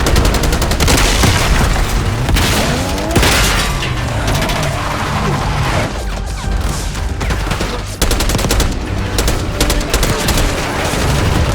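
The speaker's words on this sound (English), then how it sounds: "Fire at will" Sustained heavy gunfire from a Call of Duty: Black Ops 6 combat scene, dense overlapping automatic bursts and booming shots filling the whole stretch at high, steady loudness with no voices.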